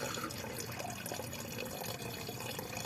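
Water soaked with banana, mango, onion and garlic peels being poured and mixed, a steady close splashing, gurgling flow that stays fairly soft throughout.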